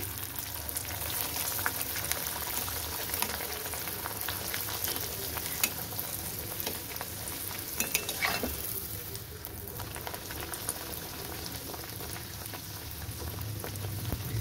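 Another pea kachori fries in hot oil in a wok. The oil bubbles and crackles continuously nearby, and scattered stirring clicks come through with no voices.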